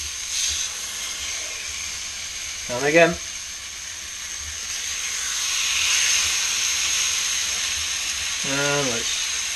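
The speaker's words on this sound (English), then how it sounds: "Listen for the sizzle." Steady sizzling hiss of steaks frying in a hot cast iron skillet, continuous throughout, with a couple of brief spoken remarks over it.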